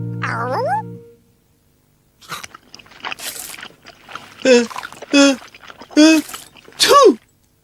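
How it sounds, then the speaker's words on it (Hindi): A cartoon character sneezes loudly in a Hindi-dubbed animated show. A quick run of sniffly, wavering nasal sounds builds up, then several sharp bursts follow in a steady rhythm, with squeaky cartoon voice tones in between. "ये तो हेनरी के छींकने की आवाज है ना?"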